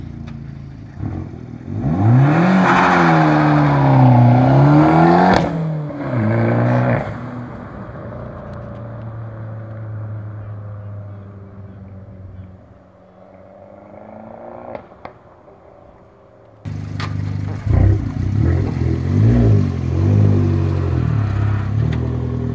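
A turbocharged car revs hard, its engine tone climbing loudly and wavering, then eases off into a lower idle with a brief hiss before the engine picks up again near the end.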